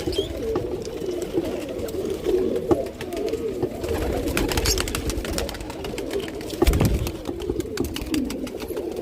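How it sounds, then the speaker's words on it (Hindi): Several pigeons coo softly and repeatedly nearby, their low throaty calls overlapping against a faint background with occasional light rustles. "अपने कबूतर आ चुके हैं बाहर"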